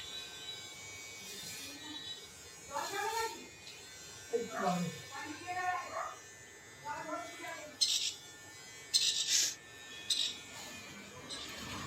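A buzzing electric trimmer runs in short bursts as it cuts a boy's hair at home, with voices talking over and between the passes.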